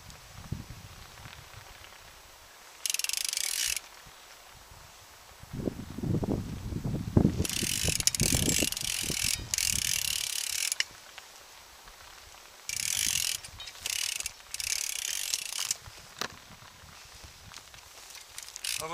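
Kite line on a hybrid delta kite is wound back onto a spool in bursts of rapid ratcheting clicks, loud and close, separated by quieter gaps with some handling rustle and low rumble.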